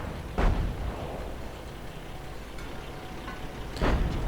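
Artillery barrage explosions in a WWII strategy game, two heavy booming blasts near the start and end with a rumbling battlefield bed between them.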